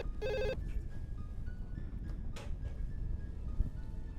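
A single short electronic telephone ring near the start, then low, quiet room noise with a couple of faint knocks.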